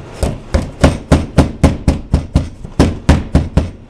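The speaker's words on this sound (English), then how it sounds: "I just feel where the staple is and then take a hammer" A hammer drives staples into a wooden work table in a rapid series of about thirteen sharp, loud, evenly spaced blows, heard close with no talk.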